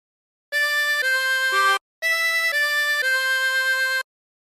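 A 24-hole tremolo harmonica plays a phrase of Yellow Rose of Texas, wavering reedy notes in two short bursts separated by a brief pause, loud and close with no voices.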